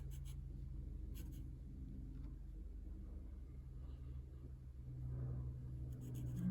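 A pencil draws a face on paper, faint close scratching strokes over a steady low background rumble, with short bursts of quicker strokes.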